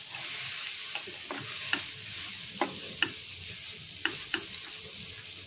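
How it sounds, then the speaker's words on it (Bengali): Semolina halwa frying in ghee gives a steady sizzle with several sharp scrapes and taps of a spoon stirring the pan, spaced irregularly, close and moderately loud, with no talking. "একটু ভেজে নিই, ঘি ভাসা ভাসা হয়ে যায়, খুব ভালো গন্ধ বেরোচ্ছে।"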